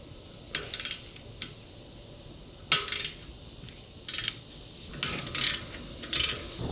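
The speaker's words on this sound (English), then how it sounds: "we're going to remove these bolts right here, and we're going to use our T55 Torx bit for that." Brake caliper bolts on an Alfa Romeo Stelvio are worked loose with a T55 Torx bit on a ratchet, giving quick bursts of metallic ratcheting clicks separated by short pauses, close and moderately quiet.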